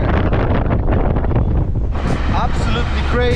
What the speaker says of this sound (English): I'm trying to be heard through all that wind.